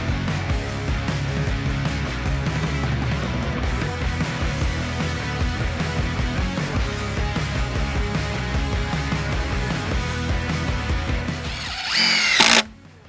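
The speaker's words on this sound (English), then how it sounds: "200 Optimax screws have been put into timber and we are still on 3 bars out of 4 on the Milwaukee" A Milwaukee impact driver sinks Optimax screws into timber, a sustained loud whirring and rattling hammer of the tool close by, running almost continuously before a sharp final burst and cutoff.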